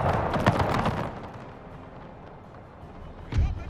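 Musket volleys and artillery fire from a Prussian-Dutch War 1865 battle in a strategy video game, with a loud burst of shots early, a rumbling lull, then another heavy report near the end, mixed under speech.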